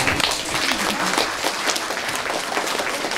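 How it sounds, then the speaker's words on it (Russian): Applause from an audience at a primary school graduation celebration after a magic trick, dense steady clapping filling the room at close range with no talk over it. "Ну что ж, аплодисменты фокуснику."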